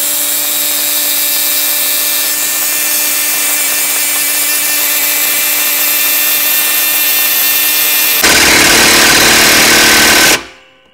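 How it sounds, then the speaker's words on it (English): A Makita 3/4-inch square-drive cordless impact wrench with a 40-volt 4 amp-hour battery runs on speed 4 driving into wood, a loud, steady hammering whine that grows rougher near the end before cutting off abruptly. "Makita on speed 4, fully charged, 4 amp hour, 40 volt battery, 3/4 inch square drive"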